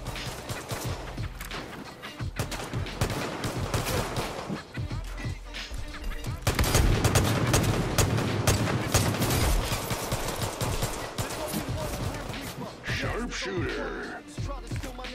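Gunfire in the online game Far Cry 5, with repeated gunshots and rapid bursts over a busy, loud stretch, including crashes and impacts and a denser volley in the middle, while a voice talks at times.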